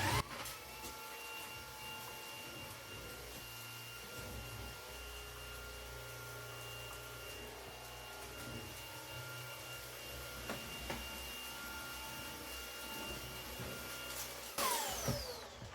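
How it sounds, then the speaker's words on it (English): A vacuum cleaner runs continuously over a kitchen floor, a steady whine with faint rubbing and bumping as it moves, fairly quiet and without speech. "This area just needs a quick vacuuming."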